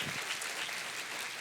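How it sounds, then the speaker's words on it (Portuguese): Audience clapping at a celebratory church service, a steady dense wash of applause from a congregation that holds evenly for the whole moment with no pauses. "Vamos dar uma salva de palmas, hoje é dia de festa"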